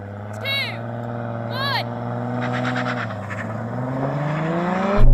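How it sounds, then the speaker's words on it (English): A 700 hp Toyota Supra Mk4 drag racing a stock BMW M3 Competition: sustained engine drone with rising and falling pitch as the cars accelerate, moderately loud, with a sharper burst near the end. "Today's showdown features a 700-horsepower Toyota Supra Mk4 versus a factory BMW M3 Competition."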